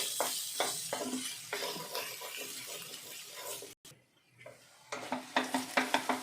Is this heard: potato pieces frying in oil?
yes